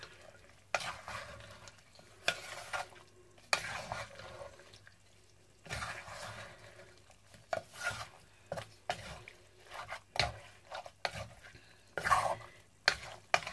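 A wooden pestle pounds and scrapes in a mortar full of Thai papaya salad with shrimp, squid and fermented fish, giving irregular bursts of thuds and wet squelching stirs, close up, with no talking.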